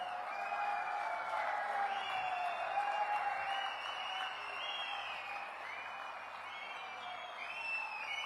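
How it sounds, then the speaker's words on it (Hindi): A crowd at a political event in India applauds, a sustained wash of clapping heard from a distance, with faint voices and whistles rising over it. "एक बार जोरदार तालियों के साथ खड़े होकर स्वागत"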